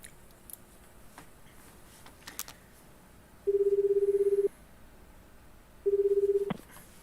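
Phone dialing in the video game 428 Shibuya Scramble: scattered faint ticks and clicks, then two sustained electronic dial tones about a second long each, separated by a short gap, clear and close.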